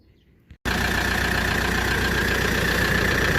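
A Daedong RX570 tractor with a faulty alternator cranks briefly after a short quiet moment, then its diesel engine catches and settles into a loud, steady close idle.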